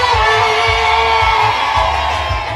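Loud, continuous high-pitched ululation from a crowd of women celebrating the bride's mother at a wedding kitchen party, trilling steadily over a rhythmic low drumbeat.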